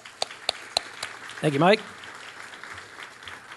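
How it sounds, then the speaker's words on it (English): A short burst of audience applause greets Mike McNally of Genesis Direct at a media panel, a few sharp claps standing out before it thins as a voice speaks over the tail. "give Mike a big round of applause"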